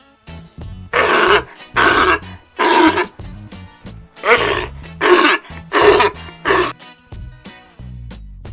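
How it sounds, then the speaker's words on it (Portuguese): A sea lion gives about seven hoarse, roaring barks in a steady rhythm. The barks are loud and close, over a light musical backing. "leão marinho"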